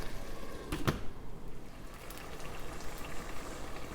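Spinach simmering in its own juice in a pot, a soft, steady bubbling hiss with a brief clatter near the start, no talk.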